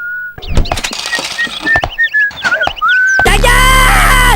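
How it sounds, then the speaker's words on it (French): Repeated short melodic whistles ring out from characters in The Sims video game, over thumps and clicks, before a louder burst of game music takes over. "Oh mais non, mais ces sifflements, c'est l'enfer."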